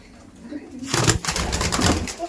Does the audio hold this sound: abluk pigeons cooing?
yes